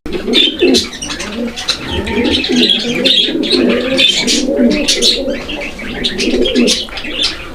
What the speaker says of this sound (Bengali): এটা তো একদম ভরপুর ডাকের কবুতর